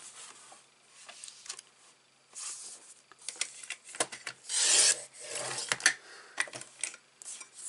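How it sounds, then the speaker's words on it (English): Designer cardstock being trimmed with a paper trimmer for a gift box, making close, dry rasping slides and scraping strokes in short bursts, with a louder sustained cut near the middle and quiet pauses between. "it only takes up 1 sheet of designer cardstock as well, which we're going to trim down and cut together"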